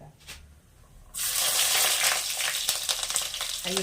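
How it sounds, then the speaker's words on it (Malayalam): Sliced onions dropped into hot oil where mustard seeds have already popped, a quiet start that bursts into a loud, steady sizzle after about a second, continuing close with small crackles. "അപ്പം കടുക് പൊട്ടി കഴിഞ്ഞാൽ നമുക്ക് സവാള ഇടാട്ടോ അതിൽ"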